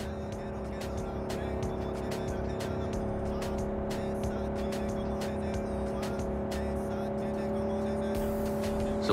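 Car driving fast in Cyberpunk 2077, a steady engine drone with tire noise and a constant hum underneath, held at an even level throughout with faint clicks above.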